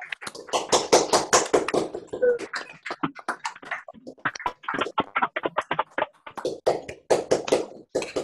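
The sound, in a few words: Zoom participants applauding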